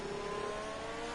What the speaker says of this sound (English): that revving glitch is horrible